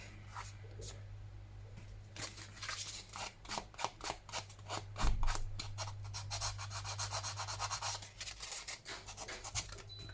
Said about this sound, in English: maybe rub away some of that and then just go over it with a dry ink